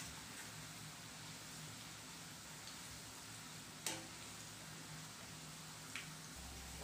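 Banana slices sizzle steadily in hot oil, a dense continuous fry with a couple of sharp clinks from stirring, close and unbroken with no voices.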